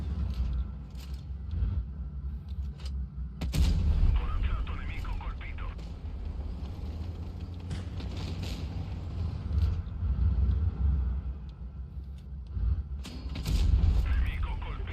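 Tank cannon shells fired in a tank video game: heavy booming shots with rumbling tails land at intervals over a continuous low engine drone, while someone talks through much of the stretch.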